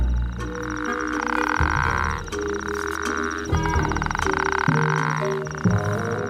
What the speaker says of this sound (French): Plus son coassement est fort